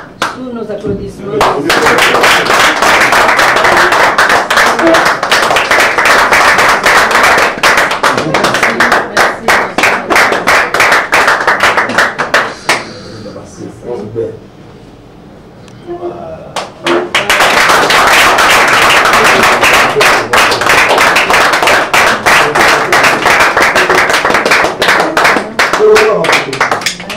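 Long bursts of loud audience clapping at a Congolese award ceremony honouring a director general, dipping briefly to near quiet midway before swelling back to full applause.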